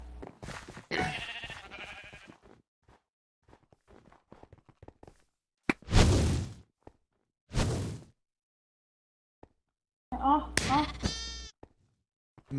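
Sheep in the Minecraft video game give three loud, close bleats spaced a couple of seconds apart, set among scattered clicks, footsteps and whooshes.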